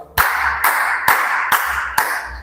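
A class claps together in unison, five sharp, evenly spaced claps about half a second apart, loud and close.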